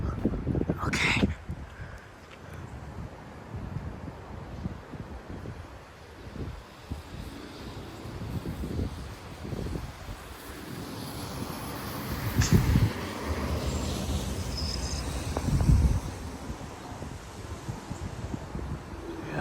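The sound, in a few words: strong wind gusts from thunderstorm outer bands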